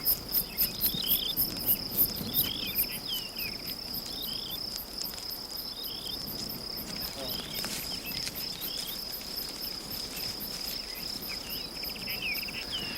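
Crickets chirp nearby in a fast, even pulsing trill that runs throughout, with faint higher chirps scattered in the background.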